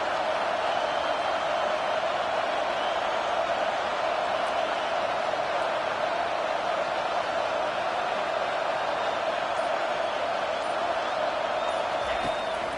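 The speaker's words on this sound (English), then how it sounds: "Decibels rising as the crowd gets behind this defense on 3rd down." A football stadium crowd roars steadily and loudly in support of the defense on a 3rd-down play, a dense sustained wash of cheering with no break across the whole stretch.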